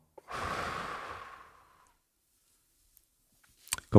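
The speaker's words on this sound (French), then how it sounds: "Alors, une respiration." A single long, deep exhale during a breathing exercise, a soft sighing breath that swells and fades over about a second and a half, followed by silence and a few faint clicks.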